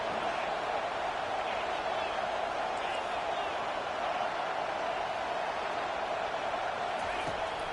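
A football stadium crowd at a college game roars in a steady, dense wash of cheering throughout, loud and continuous with no clear breaks.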